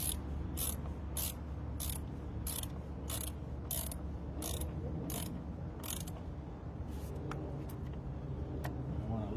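A ratchet clicks in a quick, regular series while tightening the battery terminal on a 2001 Dakota quad cab AWD, close and crisp over a steady low background hum.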